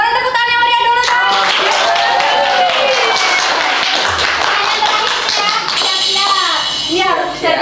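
Students from an Indonesian madrasah class clap loudly and steadily for several seconds during a school quiz event, with children's voices and chatter mixed in throughout.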